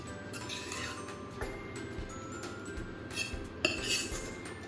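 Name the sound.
paneer gravy spooned into a biryani handi pot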